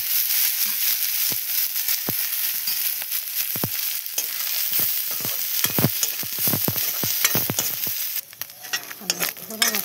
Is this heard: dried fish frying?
yes